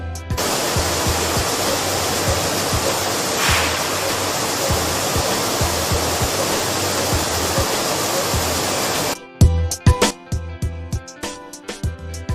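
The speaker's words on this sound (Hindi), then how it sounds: "इस सिस्टम में गेहूं को साफ पानी से धोया जाता है" Water rushes steadily through a wheat washing system at an atta flour plant, where wheat is rinsed with clean water. The dense, continuous spray and flow lasts about nine seconds, then cuts out, leaving scattered clanks and knocks.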